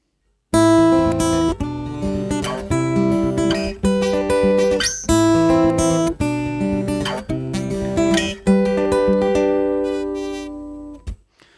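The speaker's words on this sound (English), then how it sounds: "Okay, now for the next part, the chorus, and it should sound like this." A strummed guitar plays a chorus with rhythmic chord changes, full and steady, then rings out and stops near the end.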